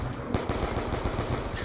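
A steady rapid stream of RPD machine gun fire in Black Ops 2 Zombies on the Town map, close and loud, continuous across the whole short burst.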